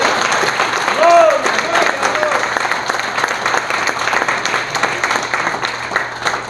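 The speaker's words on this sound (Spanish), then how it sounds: "Le da un aplauso fuerte a Dios." Congregation at a church service applauding loudly, dense sustained clapping close by with a few voices calling out over it.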